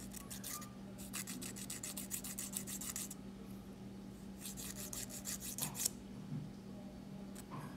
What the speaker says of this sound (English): file back and forth on the uneven parts of your nails